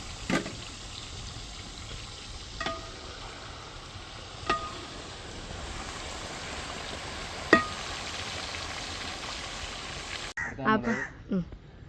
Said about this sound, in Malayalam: ഇനി നമ്മളിതാ ചിക്കൻ അതിലേക്ക് ഇട്ട് കൊടുക്കുകയാണ് വെളിച്ചെണ്ണൊക്കെ നല്ല ചൂടായതാണ്